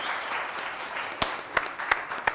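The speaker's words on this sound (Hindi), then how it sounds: "आप लोग जरा इसके लिए, मासूमियत के लिए तालियां बजाइए, बजाइए बजाइए" Studio audience applause on a morning TV show, a moderate, somewhat distant patter of clapping with a few sharper individual claps standing out near the end.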